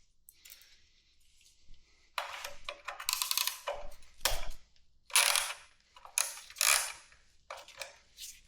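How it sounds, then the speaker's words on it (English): Hand wrenching on a 1997 Honda Magna motorcycle: close ratchet clicking and metallic tool noises in several bursts of about a second each, with quiet gaps, and no talking. "might just be a lot of ASMR kind of wrenching today"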